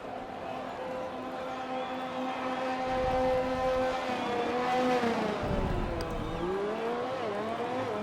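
AlphaTauri Formula race car in a racing game on the Baku street circuit screams through rising and falling engine revs, with gear shifts and a loud pass close by in the middle.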